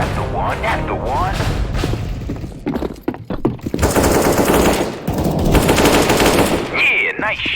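Bursts of automatic gunfire in a CS:GO team deathmatch on the Office map, rapid rattling volleys and single shots, loud and close, with voices talking over the shooting between bursts.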